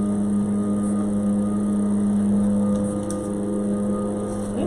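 A leaf blower runs outside as a steady, droning engine hum with a strong low tone, continuous and fairly loud throughout with no pauses.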